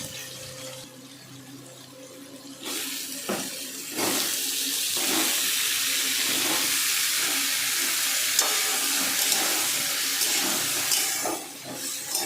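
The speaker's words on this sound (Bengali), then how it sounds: "এবার কিছুটা আলু দিয়ে এবার এর মধ্যে নুন আর হলুদ দিয়ে ভালো করে একটু ভেজে নিব" Potatoes and diced bottle gourd fry in mustard oil with salt and turmeric, a loud, continuous sizzle that flares up as the vegetables hit the pan, with occasional stirring scrapes.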